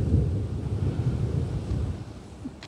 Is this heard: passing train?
no